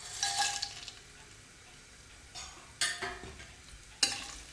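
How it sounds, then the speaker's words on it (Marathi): Whole spices dropped into hot oil for a layered mutton dum biryani, giving bursts of sizzling and stirring that flare up at the start and again in two sharp spurts near the end, with quieter frying in between. "तेल गरम झालं की त्या तेलामध्ये हे जे आपण खडे मसाले घेतलेले ते खडे मसाले घालून घेणार आहोत"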